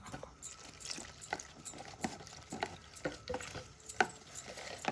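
A slurry of maida flour and water is stirred briskly for beef nihari, giving quiet, rapid, rhythmic scraping and sloshing taps close by with no voices.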